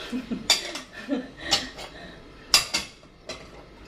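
Small bowls and little plates are tidied away, giving sharp, spaced ceramic clinks and knocks at close range, with no talking over them.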